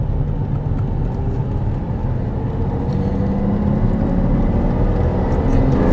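A Ferrari 512 TR engine drones steadily inside the car while driving, its pitch climbing gradually under acceleration, loud and continuous without speech.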